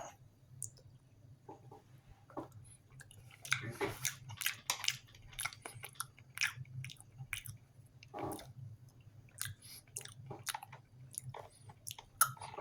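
Someone chews a meatball in marinara sauce from a 2020 MRE, menu 8, making close, wet, irregular mouth and biting sounds with occasional sharper clicks over a low steady background, with no talking.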